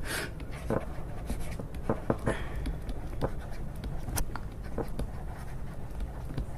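Chalk or marker writing a chemistry step on a classroom board, with short scratchy taps and strokes in an irregular rhythm over a steady room hum, close by with no talk.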